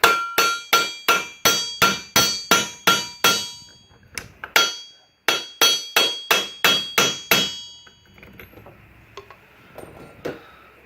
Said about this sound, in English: it gives me a hard surface to beat this thing against